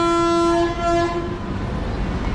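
A loud, sustained horn from a MEMU train between Rajahmundry and Vijayawada blares for about a second, then fades into the rumble of the train nearby.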